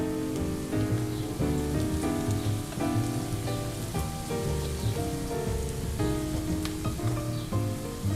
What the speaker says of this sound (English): the onion that is already frying